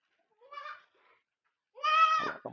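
A breeding goat bleats twice nearby, a short wavering call followed after a pause by a longer, louder, strained bleat, with no talking.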